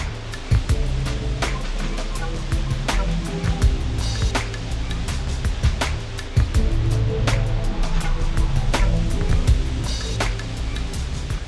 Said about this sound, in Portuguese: Imponentes cachoeiras chamam a atenção.